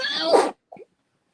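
A single sharp sneeze bursts out close by, followed by a brief faint sniffle or small vocal sound, then silence.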